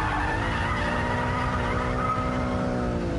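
A rear-wheel-drive BMW Z3 drifts with a loud, sustained tire squeal over a constant engine drone, held close and steady throughout.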